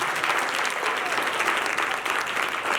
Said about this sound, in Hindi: जोर ताली देंगे मेरे साथ